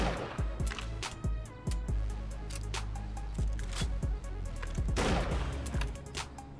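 Pipe rifle in 7 Days to Die firing several loud, sharp shots with crashing metallic reload clatter between them, all close and dense with no talk.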